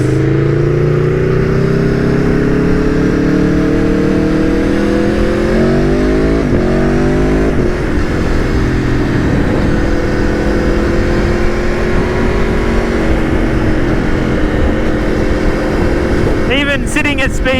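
Aprilia Tuono V4 1100 with a loud V4 exhaust, roaring steadily while being ridden, its pitch climbing through the revs and shifting with each gear change, close and constant under wind rush.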